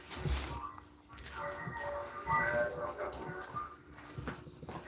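A small dog whimpers and gives soft barks nearby, with a high, steady insect-like whine running through the background.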